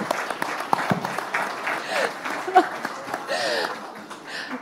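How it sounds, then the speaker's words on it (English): An audience gives faint, scattered applause at the NDTV Indian of the Year 2025 award ceremony, the clapping mixed with talk and brief laughter. "Huge round of applause for Professor Madhavi Latha"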